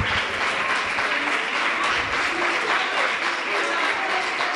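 A congregation at a memorial service claps steadily in sustained, dense applause, close and even throughout.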